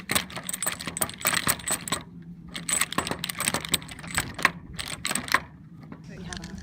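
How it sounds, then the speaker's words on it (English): A metal chain rattled about as a foley effect produces dense, jangling metallic clinks in irregular bursts, close and fairly loud, continuing for several seconds. "This sound is created by finding a chain and rattling it about."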